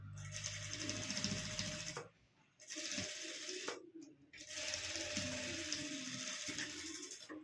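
A sewing machine stitches a net puff sleeve in steady whirring runs, close and loud, stopping briefly twice before running on again.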